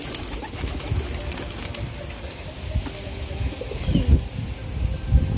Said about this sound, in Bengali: সব পায়রা সেই ওদের বিল্ডিংয়ে রয়েছে, ওইখানে বসে আছে দেখতে পাচ্ছ।